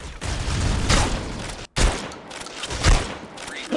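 Loud, dense gunfire from a KSG shotgun in the mobile shooter Critical Ops, heavy booming blasts with a brief gap of silence between bursts, close and aggressive.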